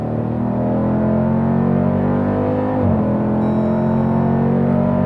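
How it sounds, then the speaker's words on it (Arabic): Steady, loud Hemi V8 of a Dodge Durango SRT holding a deep, rich drone that dips briefly near the three-second mark, then settles back into the same heavy rumble with no talking over it. "صوت رائع من محرك الهيمي في 8 هاد"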